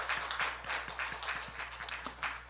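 A church congregation claps during a Korean service, a soft, distant patter of applause with uneven bursts over a low steady hum.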